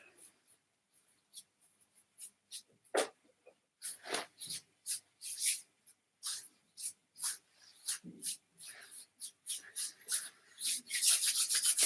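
Hands rub together in a quiet seated warm-up massage, a series of soft, close swishing strokes that start sparse and grow faster and denser toward the end.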